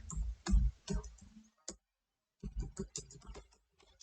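Typing on a computer keyboard during a digital marketing demo class, giving bursts of quick clicks and taps with a short pause in the middle, close and moderately loud with no talk.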